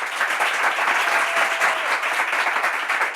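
Dense, continuous applause from a Bible quiz show audience, loud and even for a few seconds with no voices on top.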